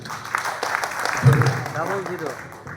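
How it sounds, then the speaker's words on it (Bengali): Audience applause at the opening of a folk music concert, a moderate wash of clapping under a voice speaking over it through a loudspeaker. "সবাইকে হাততালি দিন।"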